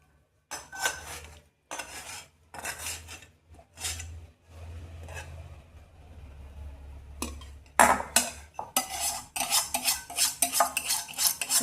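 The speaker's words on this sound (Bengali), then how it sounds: "আমাদের ঘি ছাকা হচ্ছে, একদম টাটকা ঘি।" Fresh homemade ghee is strained through cloth, with intermittent scraping and metallic clinks of a spoon against a pot coming in bursts separated by short pauses, growing busier toward the end.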